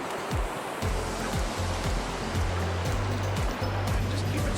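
Strong river current churning over rocks on the Rekifune River in Hokkaido, a steady loud rushing roar with no voices.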